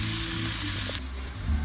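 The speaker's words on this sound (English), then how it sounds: "To the same pan, we're gonna add our vegetables." Vegetables and onions frying in a pan that was used for steak, giving a steady close sizzle that holds without a break, with no talking.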